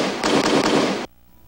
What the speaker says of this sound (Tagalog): Ang putok ng kakampi ay tulad nito.